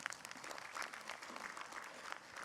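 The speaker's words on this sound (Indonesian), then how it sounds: "Tepuk tangannya boleh Bu." Applause from an audience at an Islamic religious talk show, a fairly faint, steady patter of clapping lasting a couple of seconds with no talking over it.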